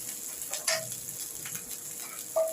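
Chicken pieces shallow-frying in a pan give off a steady, lively sizzle with scattered crackles and a couple of sharper spits, close and moderately loud, with no voices.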